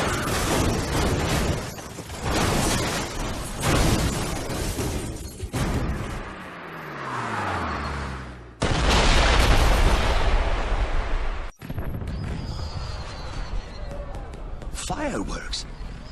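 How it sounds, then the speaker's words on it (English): Fireworks in the video game 007 Bloodstone, a long stretch of loud booming bursts, crackles and whistling rises, with several sharp blasts and rumbling tails throughout, dense and close. "Did you know there were going to be fireworks?"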